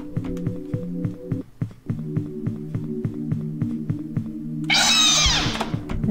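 High squeaky mouse-like sound in the Breathless video game, a brief bright burst near the end over a looping pulsing game track with steady rhythmic beats.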